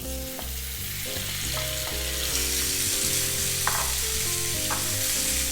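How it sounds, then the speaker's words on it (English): Kimchi stir-fried in a preheated frying pan with olive oil over medium heat gives a continuous close sizzle with occasional soft crackles and stirring scrapes, no talk. "And we're just gonna quickly stir fry this."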